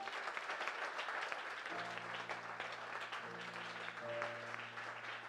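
A church congregation claps in sustained, fairly distant applause, with held musical tones ringing underneath.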